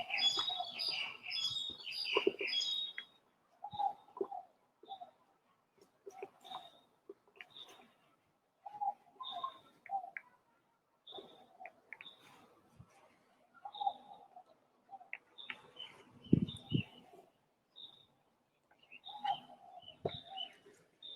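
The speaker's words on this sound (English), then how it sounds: "the birds are definitely enjoying the weather" Several birds chirp and call outdoors on a pleasant day, short bright tweets repeating in scattered bursts near and far, with a denser flurry of calls at the start and occasional low thumps and rustles in between.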